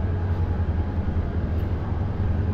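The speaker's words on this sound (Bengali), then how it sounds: "ট্রেন চলে আসছে।" A train pulls into a station on the Dhaka to Chittagong route, giving a steady, loud low rumble and hum that runs throughout with no clear horn or voices.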